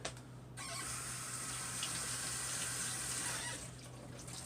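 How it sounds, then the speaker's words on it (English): A kitchen faucet runs steadily while hands are rinsed under it, a quiet, continuous close-up splash of water into a sink that stops near the end; no one talks. "let me rinse my hands off real fast."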